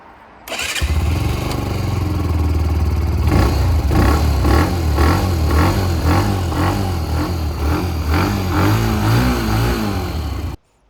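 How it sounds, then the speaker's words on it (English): A Benelli BN125 motorcycle starts up and runs close by, its small single-cylinder engine idling with a steady putter and then revved repeatedly in rising and falling bursts. No one speaks over it. "Let's do a quick sound test of the bike."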